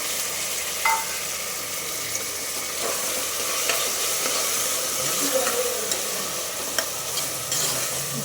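Hyacinth beans (avarekalu) fry in a pan, a loud, close, continuous sizzle with occasional stirring scrapes and light clicks, no speech.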